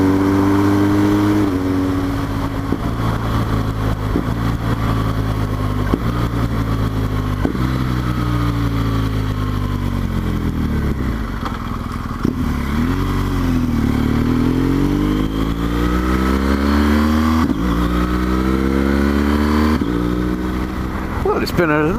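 BMW R1200GS motorcycle riding on cold winter roads, its engine droning loudly and steadily throughout with rising and falling pitch sweeps as it accelerates and shifts gears, wind rushing close over the bike.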